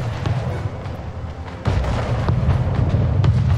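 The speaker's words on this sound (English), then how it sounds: "Right, they're going to be in range of the cannons." Naval cannons fire in the strategy game Anno 1800, a series of dull booms and thuds over a steady rumbling battle background, growing louder and denser partway through.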